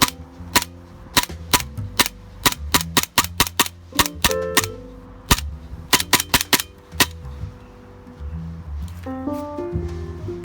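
VFC HK45CT gas blowback airsoft pistol on propane, firing sharp, snappy cracks in quick bursts and single shots, about two dozen in total, with short gaps between strings.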